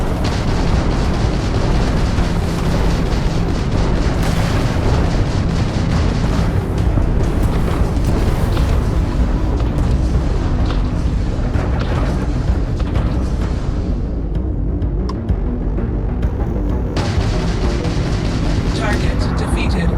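Gunfire and explosions in the Starfield video game form a dense, loud, continuous barrage of shots and booms for twenty seconds, with a brief thinning near the end before the noise swells again.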